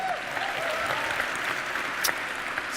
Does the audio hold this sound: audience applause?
yes